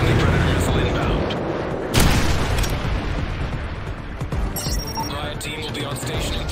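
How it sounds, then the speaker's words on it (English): A Predator missile strike in MW3 Survival co-op lands with a heavy booming explosion, followed by further blasts and gunfire under a loud, dense battle roar, with a voice speaking over it. "Friendly Predator missile inbound."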